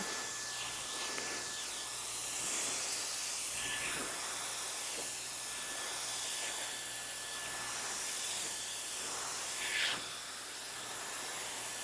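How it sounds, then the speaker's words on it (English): A hair dryer blows a steady, fairly quiet airy hiss continuously while hair is blown out during a quick weave styling session, with a brief louder rush near the end. "I'm just blowing her hair out a little bit more before I go in with the hot comb and the flat iron."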